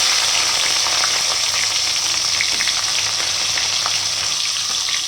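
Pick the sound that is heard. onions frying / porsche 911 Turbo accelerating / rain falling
onions frying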